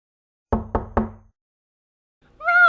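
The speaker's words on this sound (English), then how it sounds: "what are you doing knocking?" Three sharp knocks on a door in quick succession, close and distinct, followed by silence and then a person beginning to speak.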